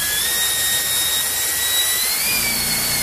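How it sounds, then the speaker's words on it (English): Drill boring through a transmission spacer plate, a continuous high-pitched whine that shifts pitch partway through over steady broadband noise, close and alone. "Let's go ahead and drill through."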